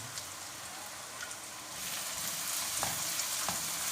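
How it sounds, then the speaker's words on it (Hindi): Ginger frying with onions in a pan for a creamy chicken malai handi, a steady close sizzle that thickens and grows louder after a couple of seconds, with faint stirring clicks and no voices. "अब अदरक डाल के इसको थोड़ी देर फ्राई कर लेते हैं"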